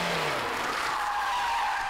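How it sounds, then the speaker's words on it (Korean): Car tires squeal in a long, loud continuous skid as the vehicle whips through a 180-degree turn on a narrow road, the screech steady and close throughout. "좁은 길에서 달려오다가 타이어 미끄러지는 소리와 함께 정신 차리고 보니 확 돌아간 자동차"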